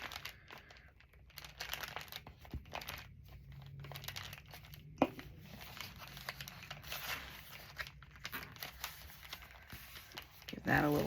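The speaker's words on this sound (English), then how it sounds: "fold my edge over to make this pocket a little bit more sturdy" Paper rustles and crinkles at close range while a journal pocket is glued and its edge folded over, with soft crumpling, pressing and light tapping continuing quietly and unevenly throughout.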